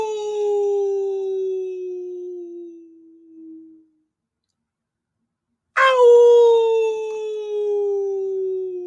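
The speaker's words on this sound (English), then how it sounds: "how does Coyote howl?" A coyote-like howl rises and slowly falls, loud and drawn out, then after a brief silence a second howl breaks in sharply and trails off again.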